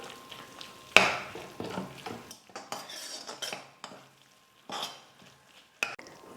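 A spoon stirs tomatoes with spices in a cooking pan for tomato soup, with clinks of metal on the pan and soft scraping at irregular intervals over a quiet background.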